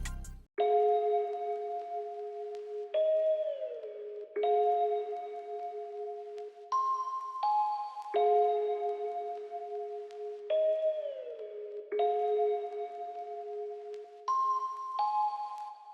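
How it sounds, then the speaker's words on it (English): A one-shot bell sample from a Chemix kit plays a slow, repeating two-note melody in FL Studio at 127 BPM, with clean, steady chiming tones that step between pitches and sound clear and alone. "It's called Favorite One-Shot Bells."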